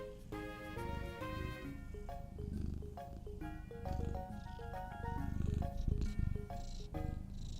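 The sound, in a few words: cat purring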